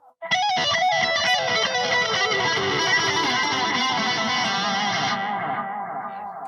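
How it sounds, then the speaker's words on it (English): An electric guitar lead tone on the neck pickup with distortion, a sustained, saturated melodic line with a wash of effects and echo, loud and close, fading slightly at the end. "go to the neck pickup, and this is a really, really great lead tone"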